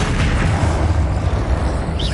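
A Confringo spell blast from Hogwarts Legacy, heard as a loud, low, rumbling burst that fills the whole short moment, with no voice over it.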